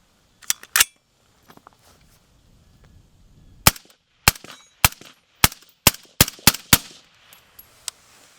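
Rifle fitted with a Riflespeed adjustable gas control set to 7, firing roughly ten loud, sharp shots: a quick pair, a pause, then a rapid irregular string with faint echoes between reports and no talking.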